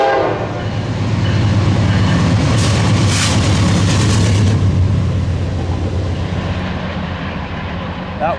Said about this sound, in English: Likely having an even easier time over the pit was the company geometry train, a very pleasant surprise to see cruising east on Track 3.